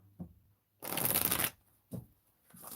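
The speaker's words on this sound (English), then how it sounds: "get the deck shuffled" A deck of Thoth tarot cards is shuffled close up: a soft tap, then a long riffling burst, followed by a few short card taps and shuffles.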